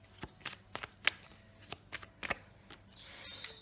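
Tarot cards being shuffled close up: a series of crisp, quick riffling slaps and flicks in an irregular rhythm, followed by a brief soft sliding rustle, quiet and isolated.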